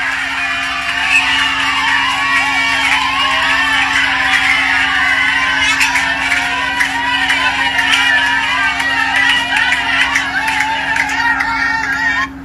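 A crowd packs the passage of the governor's compound, a loud continuous babble of many voices with whistles and shouts mixed in, under a steady hum.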